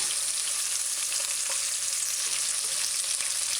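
Chicken and onions fry in a pan with a loud, constant, close sizzle, a steady bright hiss that holds evenly throughout without talking.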